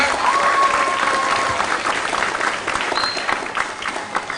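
Lively applause from an audience at a national dialogue event, honoring two professors, a dense burst of clapping that starts strong and gradually thins out toward the end.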